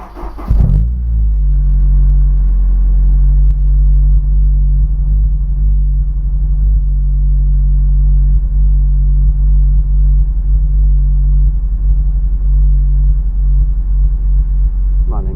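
A Honda S2000 with new spark plugs and its cylinder 1 and 4 ignition coils swapped idles loudly up close: a brief burst at the start, then a steady deep rumble with slight uneven stumbles throughout.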